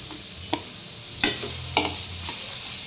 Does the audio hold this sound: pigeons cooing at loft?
no